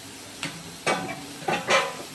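Chopped tomatoes sizzle as they hit a hot pan while making prawn gravy, with a few bursts of frying and stirring scrapes, close and moderately loud, no voices.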